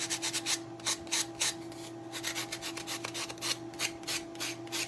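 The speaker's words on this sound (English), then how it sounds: "So let me sand down some of the corners." Sandpaper rubs against the corners of a canister in steady, rhythmic rasping strokes, close and fairly quiet, with no talking.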